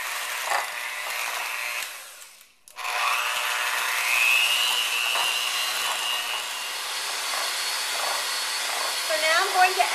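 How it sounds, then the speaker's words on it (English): An electric mixer creams two 8-ounce packages of cream cheese in a mixing bowl for cheesecake. Its motor drones steadily and close by, with a brief dip where it nearly cuts out, then runs on. "now I'm just going to cream this together till it's smooth"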